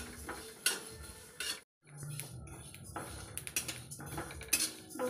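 Mustard seeds are dry-roasted in a pan on a gas stove and stirred with a spatula. The result is faint, irregular metallic clinks and scrapes with a brief pause partway through.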